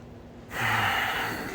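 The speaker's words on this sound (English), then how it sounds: "So I can breathe in through my nose." One slow, audible inhale through the nose starts after a brief quiet moment and stays clear and close, with no talking.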